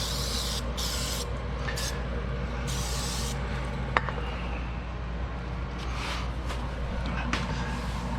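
Plexus plastic cleaner sprayed from a can in a few short, close hissing bursts over a steady low background hum.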